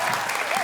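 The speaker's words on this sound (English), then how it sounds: "Big round of applause for Taravella." Audience applause for the J.P. Taravella team at a school quiz duel, a short burst of dense clapping from a crowd, fairly close and steady.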